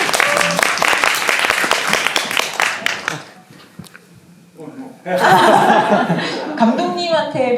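Applause and laughter from a film talk audience fill the opening seconds, then fade to near quiet before a burst of speech and more clapping and laughter resume.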